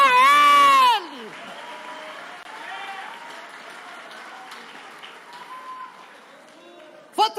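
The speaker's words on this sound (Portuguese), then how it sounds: "É para ele essas palmas, é para ele." A church congregation applauding, a soft steady patter of clapping heard at a distance after a loud sung or shouted voice, with a few voices and scattered noise over it.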